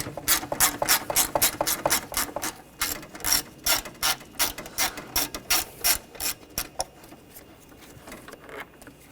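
Ratchet wrench fitted with an 8mm socket backing bolts out of the intake on a 2002–2006 Honda CR-V 2.4L four-cylinder, a close, loud run of rapid clicking bursts in short repeated pulls with brief pauses between strokes.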